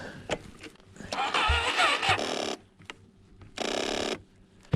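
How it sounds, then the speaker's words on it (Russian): An engine on haymaking machinery cranks in two long bursts and fails to start, with short clicks and rattles between attempts, close by. "Заглушил, и теперь что-то он не заводится. Трещит."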